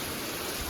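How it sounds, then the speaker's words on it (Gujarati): Wind-driven downpour with rain hissing steadily as an even, fairly soft wash of noise, heard alone for a brief moment. "પાછું પવન સાથે વરસાદ છે."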